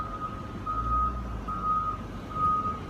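A truck reverses near a front end loader, its backup alarm sounding steady evenly spaced beeps over a low engine rumble, moderately loud at close range.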